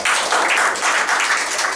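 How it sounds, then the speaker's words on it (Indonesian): A church congregation claps in praise during a worship service, a brief, steady burst of many hands with no voices over it. "Tepuk tangan bagi Tuhan."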